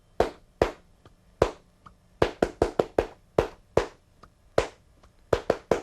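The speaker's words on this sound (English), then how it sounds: "I'll just be counting the beat and clapping the rhythm" Hands clap a rhythm in a bright, dry room, about twenty sharp claps in an uneven, syncopated pattern, near and loud with no talk.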